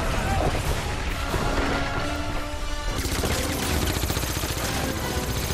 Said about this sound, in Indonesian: sehingga baku tembak pun terjadi